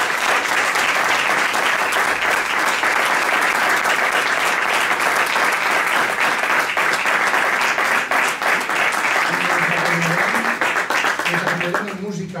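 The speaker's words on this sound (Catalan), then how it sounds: "Un aplaudiment per a ells." Sustained loud applause from an audience for a band of l'Olleria, dense and steady for about twelve seconds, with a voice speaking over the last couple of seconds as it fades.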